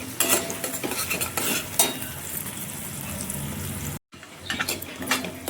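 Eggs scrambled with salt and turmeric in hot oil in a pan for chicken fried rice, giving a steady sizzle with scraping stir strokes and a brief break near the end.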